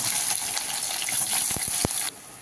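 Hot oil with crushed garlic hisses steadily as chopped onion goes into the pan, a few sharp crackles near the end before the sizzle drops to a quieter level.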